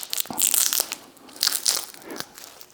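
Copper windings are peeled off a transformer core in several short, crackly, crunching bursts close by, with brief pauses between the tearing sounds.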